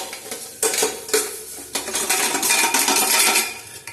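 A metal spoon scrapes and clanks against a pan while rajma masala is stirred, several sharp knocks followed by continuous scraping with a faint sizzle underneath, close and clear.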